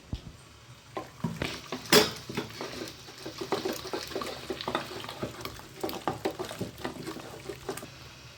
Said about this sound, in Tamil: இதில் இருக்கிற தண்ணியை நல்லா எடுத்து வச்சுட்டு மத்து வச்சு நல்லா கடைஞ்சிக்கலாம்.